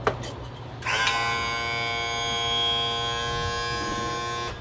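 Power trim motor on a Suzuki 250SS outboard whirring steadily after a brief click, a close, thin electric buzz holding for several seconds.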